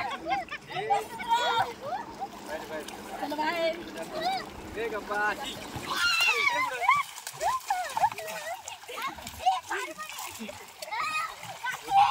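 Children splashing in water nearby, bursts of splatter mixed with lively kids' voices and chatter.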